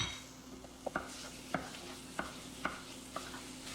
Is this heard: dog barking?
no